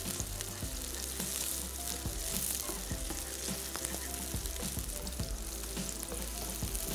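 Onions and green chillies fry in a pan with a steady, close sizzle and crackle that runs unbroken throughout, with occasional soft low knocks beneath and no talking.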